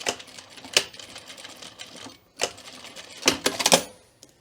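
Sewing machine stitching the triangle at the end of a welt pocket, a few quick close runs of clattering stitches broken by short gaps.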